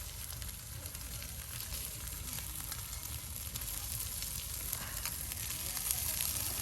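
Cooked rice frying in a pan, giving a soft, steady sizzle that holds evenly throughout and swells slightly toward the end, faint and with no voices.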